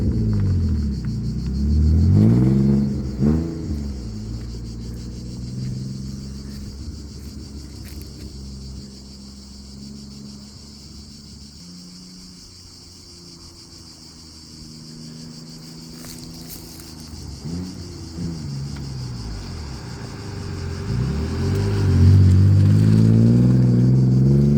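An Alfa Romeo 147 GTA with its Busso V6 engine pulls hard on an open road, heard from inside the cabin: a loud, deep engine rumble climbs through revs, eases back through a shift, then surges again toward the end.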